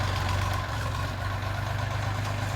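A Scout XT-244 tractor engine runs steadily while ploughing garden plots, a loud, close, even diesel drone with no breaks.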